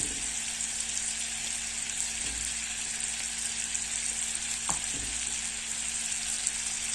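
Flour stirred into melted butter for a béchamel fries with a constant, close sizzle, with a few faint scrapes of a utensil in the pan beneath it.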